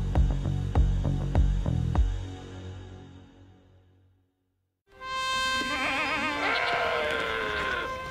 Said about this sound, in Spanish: Ya me aburren las cabras.